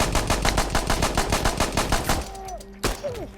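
Rapid automatic gunfire from Insurgency Sandstorm rattles in a steady, close burst of evenly spaced shots, then stops abruptly, leaving a reload clatter, a lone sharp shot and faint ringing tones.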